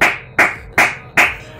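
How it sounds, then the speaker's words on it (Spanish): Four evenly spaced, crisp claps of applause for footballer Santi Mina in FIFA 19, close and isolated with nothing else around them. "Venga, un aplauso para Santi Mina."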